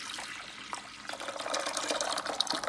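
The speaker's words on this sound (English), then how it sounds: "So I'll be pouring this into my instant pot." Soaked pinto beans and their soaking water are poured into an Instant Pot, making a steady splashing, trickling pour that builds a little louder toward the end, close by with no talk.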